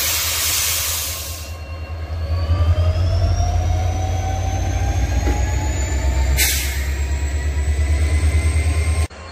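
A new express passenger train running on an inaugurated line near Badampahar, with a steady loud rumble of wheels on rails, rising squeal tones and a rattling carriage sound that continue throughout, with no speech.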